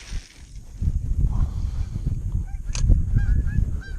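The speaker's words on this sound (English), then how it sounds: "Hey geese" Geese honk a few times in the distance over a low rumbling background of wind and water at a lake cove, Conestoga Lake, in October.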